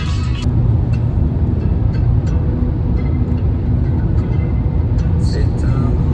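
A Fiat car on the road, heading off on a ski trip, with a loud steady low engine and road rumble filling the cabin without letup.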